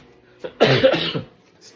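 A close, loud cough bursts out in a short rough fit, with a brief throaty clearing before it, then quiet.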